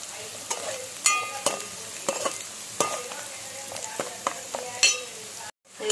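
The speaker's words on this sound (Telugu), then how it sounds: "ఆనియన్స్ మంచిగా ఇట్లా వేయనివ్వండి." Onions fry in a pan with a steady sizzle, broken by repeated sharp scraping clicks as they are stirred at a roughly even pace. A brief silence comes near the end, then the frying resumes.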